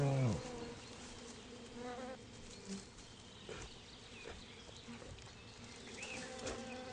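Bees buzz around hives in the Burzyansky district of Bashkortostan as bears raid them. A faint, continuous droning hum is dotted with light pattering and occasional closer buzzes passing by.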